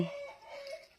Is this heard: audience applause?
no